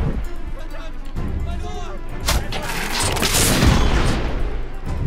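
Loud booming cannon shots from the video game The Order: 1886, a couple of heavy blasts with rumbling debris, while someone talks over the action.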